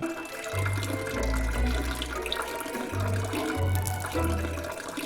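A character urinates in the Manual Samuel video game, heard as a steady stream of water splashing into a toilet with low gurgling throughout, close and continuous.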